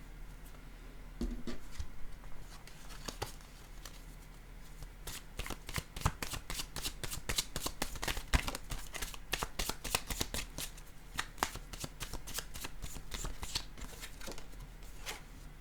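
Playing cards are shuffled close by, starting with a few soft handling rustles, then long runs of rapid riffling clicks repeating steadily over quiet room tone.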